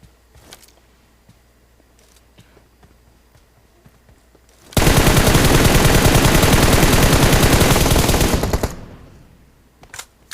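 A long loud burst of automatic gunfire in a PUBG-style battle royale game lasts several seconds after a quiet stretch of faint clicks, dense and continuous, then stops abruptly.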